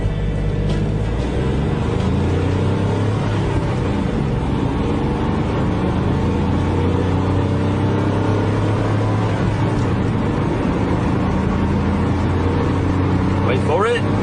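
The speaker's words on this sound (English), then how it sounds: "To give you an idea of how long this car takes to get from 0 to 60 miles per hour" A Hyundai Accent accelerating hard from a standstill to 60 mph, its engine droning loudly and steadily inside the cabin, with the pitch rising slowly through the gears over a constant road roar.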